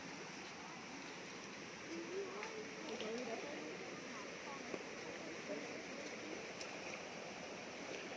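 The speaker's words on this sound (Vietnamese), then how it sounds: "nghe tiếng suối chảy góc gách góc gách" A mountain stream at Suoi Mo on a summer outing flows with a steady, soft, broadband rush, heard from a distance under faint voices.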